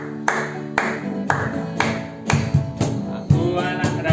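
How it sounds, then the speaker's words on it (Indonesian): Children's hands clap in a steady rhythm of sharp, evenly spaced strokes against a musical backing at a school morning devotion, moderately loud and close. "Tepuk tangan."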